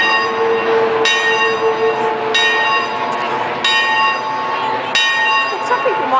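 Church bells at Braywood, including one dating from 1857, ring in steady, evenly spaced strikes, each bright metallic clang swelling out of a continuous wash of ringing, loud and close throughout.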